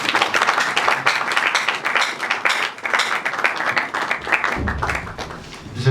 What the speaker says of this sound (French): J'aimerais aussi que vous applaudissiez aussi pour vous-même.